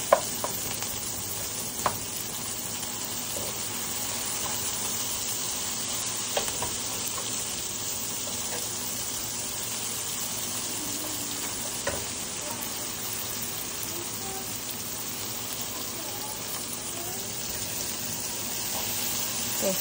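Chopped onions fry with salt in a pan as they turn brown for banana bharta, a steady close sizzle running throughout with a few soft clicks of stirring and no talk.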